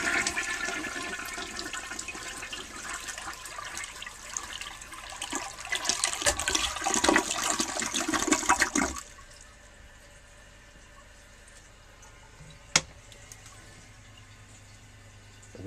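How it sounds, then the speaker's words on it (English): A Belger Silenta toilet flushes with a loud, rushing surge of water for several seconds, then drops to a quiet trickle as the cistern refills, with a single sharp clunk near the end. "I'll start with a flush of the Belger Silenta."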